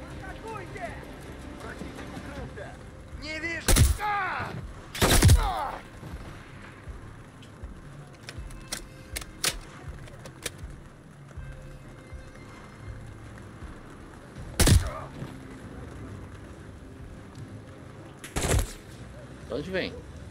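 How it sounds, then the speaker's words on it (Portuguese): Gunfire from a weapon in the video game Call of Duty: Modern Warfare III, a few loud separate shots spaced across the stretch over steady background game noise. "o tiro dessa arma é monstro, hein?"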